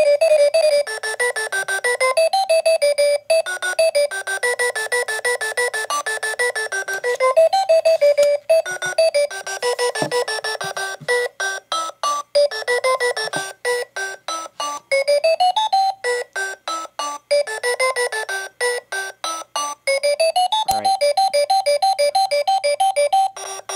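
A ZHPUAT LED message alarm clock rings loudly and close up with its battery inserted, a repeating electronic beeping melody that stutters into rapid on-off pulses midway before resuming a steady pattern.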